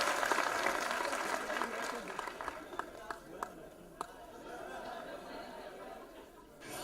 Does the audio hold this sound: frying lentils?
no